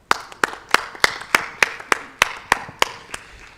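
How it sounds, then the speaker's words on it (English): A conference audience applauds a panel with slow, even claps, about a dozen crisp strikes in steady rhythm, close and clear with no talk over them. "Let us again appreciate this wonderful panel clapping hands."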